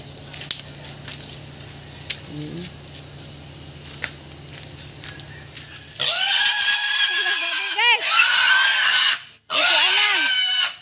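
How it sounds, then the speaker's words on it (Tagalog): Pig on a rural property in Alicia, Bohol, squealing loudly in repeated bursts from about six seconds on, after quieter background chatter, close and harsh. "Ilapwa sa baboy."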